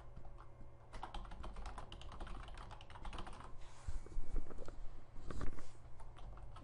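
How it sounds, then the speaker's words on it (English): Steady typing on a computer keyboard as a search is entered, a run of quiet, fairly close key clicks with a few louder taps near the end, no voices. "if I type in Jamison Personal Trainer"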